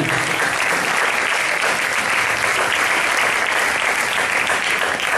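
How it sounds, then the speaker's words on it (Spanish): Congregation applauding during a church service: loud, sustained, evenly dense clapping from a large crowd, continuous from start to finish with no pauses. "Regale otro aplauso al Señor."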